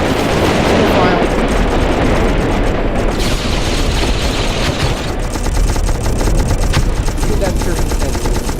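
Sustained gunfire from a video game match of Unreal Tournament, aimed at a turret, rattling continuously and loudly throughout with dense bursts and booming impacts, voices faint underneath.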